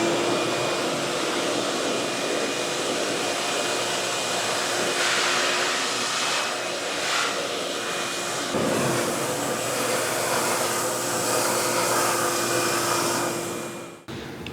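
An Oneida Dust Cobra cyclone dust collector draws air through a wand and then a 2.5-inch hose in a woodworking shop, a loud steady whooshing roar with a faint tonal whine, shifting pitch slightly midway as the attachment changes.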